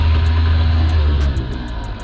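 An old two-stroke outboard motor on a fishing boat on a lake revs loudly with a rough, buzzing roar, dropping slightly in pitch near the end.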